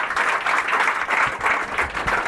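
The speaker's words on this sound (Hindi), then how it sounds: "मेरी तरफ से जोरदार तालियां इनके लिए" An audience gives a steady burst of loud applause for a guest speaker at an inspirational talk, dense clapping that holds evenly from start to finish with no voices over it.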